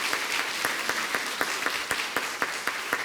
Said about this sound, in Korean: 뜨겁게 다시 한번 박수해 주시기 바랍니다